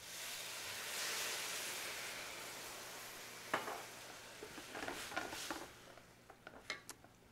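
Dry white wine poured into hot arborio rice for radish risotto on high heat, giving a steady soft sizzle with several brief sharper crackles and clinks partway through, close and fairly quiet, no talk.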